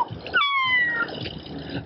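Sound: whistle imitating a cat

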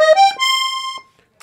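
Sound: Weltmeister Juwel piano accordion, violin register

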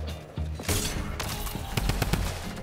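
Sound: gunfire from video game Fortnite

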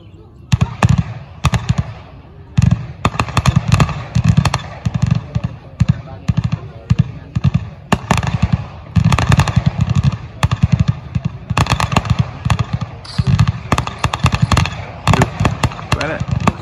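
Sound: gunfire in a video game

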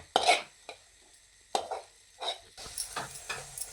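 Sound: stirring mawa modak mixture in pan

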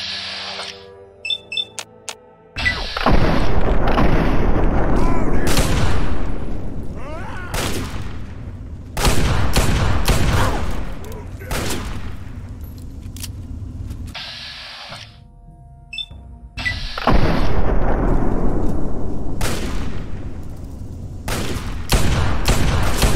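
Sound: gunfire from a weapon in the video game Fallout 3

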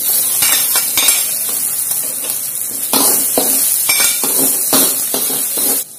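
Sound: sautéing chili and scallions in a pan

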